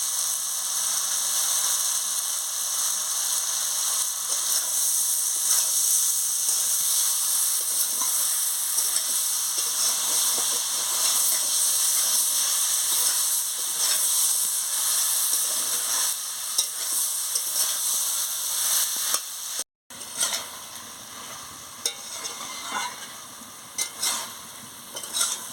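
Papaya and mixed vegetables sauté in a pan, a continuous loud sizzle and steamy hiss with occasional stirring scrapes; a brief dropout near the end, then the frying carries on.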